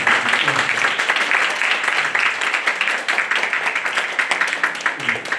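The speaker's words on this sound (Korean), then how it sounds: "박수 한번 큰." Audience applause at an awards ceremony for a Korean women's baduk (Go) league: dense, sustained clapping that fills the whole stretch at a steady, fairly loud level.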